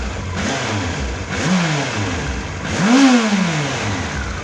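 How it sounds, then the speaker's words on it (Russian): A Honda X4 motorcycle engine, tuned after valve and carburetor adjustment, runs close by, revving up twice with rising and falling sweeps above a rough idle and loud workshop ventilation noise. "мотоцикл Honda X4 отрегулирован. Работа проделана по мотору. Работает очень хорошо."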